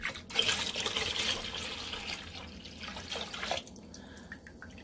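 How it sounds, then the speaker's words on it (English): Jamaican sorrel drink, deep red from steeped fresh sorrel, poured into a pot as a steady liquid stream with splashing and trickling that fades out near the end; no talking. "I'm gonna pour in here also."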